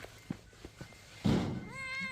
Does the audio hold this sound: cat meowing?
yes